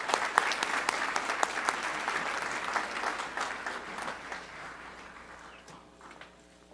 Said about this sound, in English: Another round of applause for these phenomenal students.